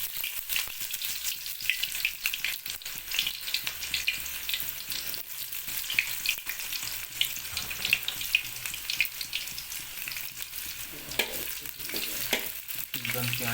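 Onions sizzle continuously in a hot wok, a dense close crackle with frequent scraping stirs throughout and a low hum underneath, no talking.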